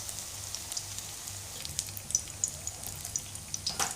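Bitter gourd pieces coated in besan batter fry in hot oil, giving a steady soft sizzle with scattered crackles and pops throughout, fairly quiet and close.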